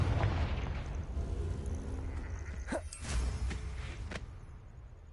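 A spell explosion in a video game: a faint, muffled boom with a few sharp crackling bursts over low rumbling game ambience.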